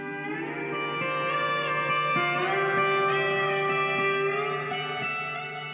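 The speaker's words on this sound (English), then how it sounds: "It's the pedal steel guitar, the instrument I play and love." Pedal steel guitar plays sustained, gliding harmonic tones with slow pitch bends, a steady, full sound alone with no voices.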